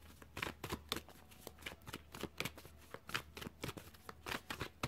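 Tarot cards being shuffled by hand at close range, a quick run of crisp riffling and slapping bursts in a steady, uneven rhythm with no talking.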